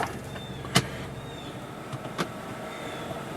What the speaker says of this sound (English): I'm going to back it down here off the wooden blocks.